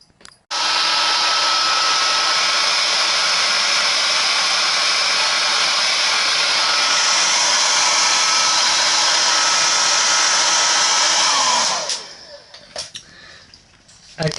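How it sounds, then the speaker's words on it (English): A hair dryer blows steadily and loudly on glue coating iron pyrite fossils, a continuous whooshing roar that runs for about eleven seconds before cutting off, followed by faint handling noises. "what I'll do is I'll hair dry this"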